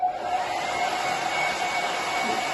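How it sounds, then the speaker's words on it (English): A hair dryer on highest heat and lowest speed, melting chocolate, blows with a steady whirring motor hum and airy rush, close and continuous with no pauses. "melt the chocolate using the hairdryer on the highest heat but the lowest speed"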